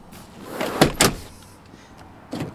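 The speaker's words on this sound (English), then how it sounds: "dual power sliding doors" Power sliding door on a 2012 Honda Odyssey EX-L minivan: two close mechanical thumps and a latching clunk, then a quieter motor whir and a final click, heard nearby with no talking.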